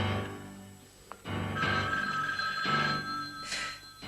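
A telephone ringing in a 1984 film, repeated electronic ring bursts at moderate volume with short gaps between them, no voices.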